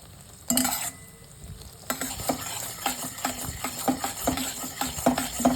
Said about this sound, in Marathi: हे शेंगदाणे आणि तीळ मिक्स करून घ्यायचं